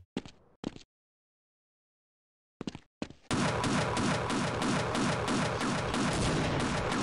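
Gunfire in the Half-Life video game: a few sharp isolated shots separated by silence, then a sustained rapid burst of loud, evenly spaced blasts that continues to the end.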